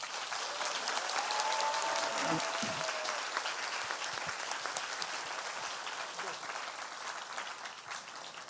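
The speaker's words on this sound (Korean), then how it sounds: "이 사람들한테 박수 한 번 부탁드립니다" An audience at the closing of an advertising event applauds steadily in an indoor hall, a dense wash of clapping that slowly thins out, with faint voices mixed in.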